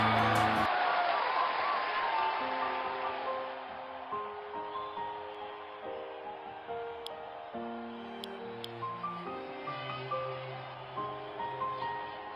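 Stadium crowd in the RC 20 cricket game roars loudly at first, then the cheer slowly fades into a softer background hum beneath tonal music and a few sharp clicks.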